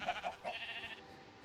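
Several short bleats from a Minecraft sheep inside a chicken coop, three quick calls in a row that then fade, alone with no talk.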